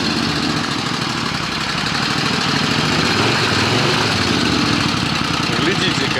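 A Suzuki Intruder motorcycle engine idles continuously nearby, a steady, loud rumble with an even throb and no changes in revs, heard alone.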